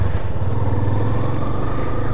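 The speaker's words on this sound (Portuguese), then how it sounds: "Primeiro rolezinho com a moto nova, hein, cara." A brand-new, zero-kilometre Yamaha Fazer 250 motorcycle on its first ride, its engine giving a steady, continuous rumble at close range with no talk over it.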